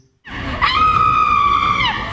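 A person screaming, one loud, sustained, high-pitched scream that breaks in suddenly out of silence and holds steady for nearly two seconds.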